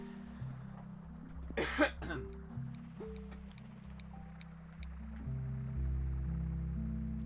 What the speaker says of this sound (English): You can hear me coughing when I lean away from the mic.